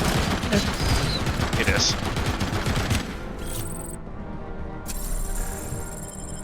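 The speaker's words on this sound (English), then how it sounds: "Is that a fucking machine gun again?" Rapid bursts of machine gun fire in the shooter game Robocop: Rogue City, dense and loud for the first few seconds, then a short quiet gap and sparser shots and game effects, with a voice briefly talking.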